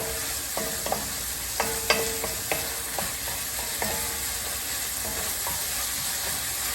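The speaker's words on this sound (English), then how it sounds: "you kind of want to cook it fast so you don't lose that texture of those peppers" Peppers fry fast in a hot pan with a constant close sizzle, broken by a dozen sharp scraping clicks as a utensil stirs them, with no talking.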